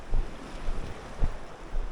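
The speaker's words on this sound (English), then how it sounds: "And the water is rough." Rough sea water surges and slaps along the rocky Jamaican shore at Hanover, the washes coming in uneven bursts under gusty wind noise, with no voices.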